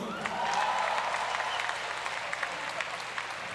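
Audience applause and light crowd noise at a Java Jazz Festival concert, a steady dense wash with a faint sustained tone early on, continuing throughout.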